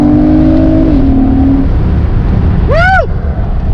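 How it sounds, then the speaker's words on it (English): A 6th gen Chevrolet Camaro's exhaust drones loudly, then a sharp rev swells and drops near the end, heard outdoors and close up. "Oh, hear that exhaust."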